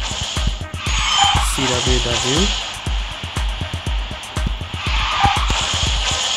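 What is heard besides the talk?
car drifting and tyres skidding in QQ Speed Mobile video game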